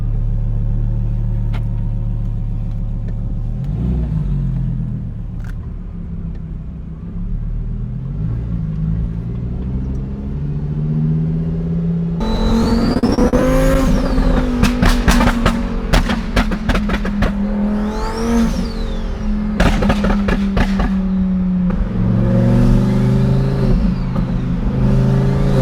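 A 1300hp twin-turbo Lamborghini drives off, its engine a low rumble at first, then rising into louder revving and acceleration roars with rapid gear changes, steady throughout with no talk.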